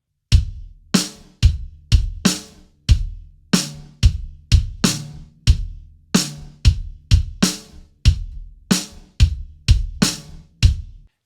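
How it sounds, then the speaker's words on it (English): Drum kit playing only kick and snare in a funky rock pattern, no cymbals, with punchy low kicks and sharp snare backbeats repeating steadily and closely miked, no speech. "So we're going to leave just the kick drum and the snare drum pattern."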